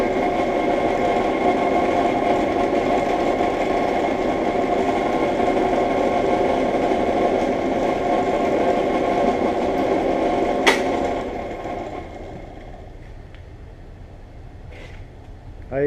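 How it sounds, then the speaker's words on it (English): A Kalamazoo band saw on a three-phase power supply runs with a steady, close motor hum and whir, then winds down and fades near the end with a few faint knocks. "And here's the bandsaw."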